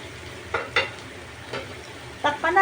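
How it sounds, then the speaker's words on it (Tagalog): Beef sautés in a pan, a soft sizzle underneath while a utensil scrapes and stirs in a few short bursts, the last ones quicker and closer together. "sangkutsahin lang natin mabuti yung ating beef"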